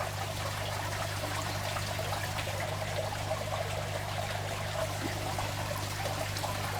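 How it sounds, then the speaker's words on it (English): Water trickles and drips steadily from an aquarium siphon hose while a tank is being filled. The sound is a continuous close-up pouring and trickling over a low steady hum, with no talking. "we've got quite a few drips coming out"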